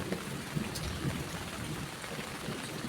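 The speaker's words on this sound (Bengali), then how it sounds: "বৃষ্টি শুধু বৃষ্টি বৃষ্টি বৃষ্টি হচ্ছে" Heavy rain pours steadily on surfaces under a cloudy sky, a dense continuous hiss with close drips and patter throughout, with no voices.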